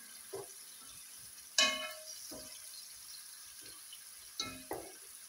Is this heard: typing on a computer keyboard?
no